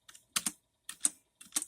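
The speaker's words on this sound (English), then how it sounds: "The Spacebar is pretty loud too, but it's still a membrane keyboard." Keys clack on a Dell L100 membrane keyboard with a loud spacebar, in a few quick clustered bursts of close, crisp taps separated by short pauses, no voices.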